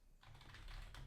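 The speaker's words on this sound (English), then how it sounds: "and you can type something like this" Rapid, steady typing on a computer keyboard while a new user is added in Databricks, a continuous patter of close keystrokes with no one talking.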